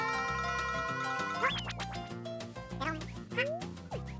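Cute cartoonish peeping from a crowd of baby chicks in Yoshi's Woolly World plays over bouncy background music, with short chirps and sliding pings scattered through the tune.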